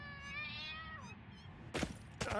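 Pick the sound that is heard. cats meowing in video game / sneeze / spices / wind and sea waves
cats meowing in video game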